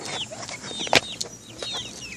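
Chickens being fed cluck and squawk nearby in a steady scatter of short calls. One louder, sharper squawk stands out against a low background hum.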